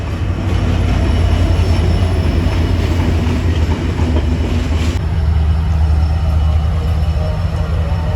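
A train passes through a railway station on the Jaffna–Colombo line, a loud continuous rumble with a steady low drone and faint wheel clatter throughout, no talk.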